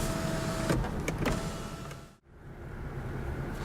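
Electric sunroof motor in a 2018 Lexus GS350 cabin, a steady whirring hum that runs, stops with a brief dip near the middle, then resumes at similar moderate loudness.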